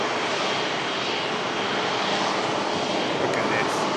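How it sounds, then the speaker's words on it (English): An airplane passes overhead at a plane-spotting session, a loud, steady, broadband engine roar that fills the whole stretch, with people talking faintly beneath it. "Look at this. Beautiful aircraft, guys."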